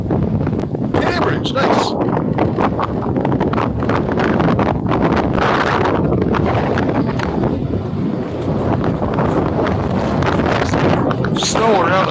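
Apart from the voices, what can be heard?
wind blowing over a frozen lake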